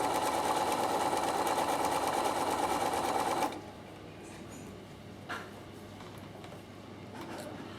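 A Bernina sewing machine stitching patchwork runs as a loud, steady, rapid whirring hum for about three and a half seconds, then stops, leaving quiet room sound with a few faint handling noises.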